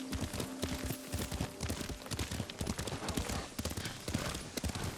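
A horse ridden in Ghost of Tsushima trots along with steady, rhythmic clip-clop hoofbeats, moderately close, continuing throughout without speech.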